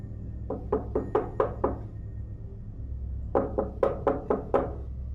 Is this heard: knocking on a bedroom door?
yes